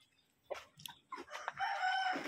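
A Chinese chicken at a rural provincial home crows and clucks at a distance, with a few brief clucks followed by a longer, sustained crow, faint and a little muffled.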